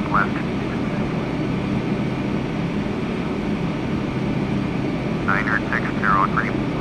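An Air France airliner takes off from runway 24 left at SVO airport, a loud, steady broadband jet roar filling the whole stretch, with brief voice fragments cutting in near the end.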